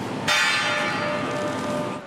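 The New York Stock Exchange opening bell rings on the tenth anniversary of 9/11, a sudden loud bright clang that keeps sustaining as a dense metallic ring, with no talking.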